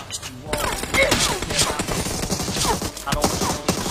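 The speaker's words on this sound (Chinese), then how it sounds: "这个枪声完全是掩盖这个车声的" Rapid gunfire crackles in the Peacekeeper Elite battle royale game, loud overlapping bursts of shots through the whole stretch, with a voice faintly present underneath.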